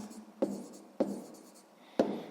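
Pen or pencil writing by hand on paper while working a sixth-grade math exercise, three sharp taps followed by short scratchy strokes, close and quiet with no talking.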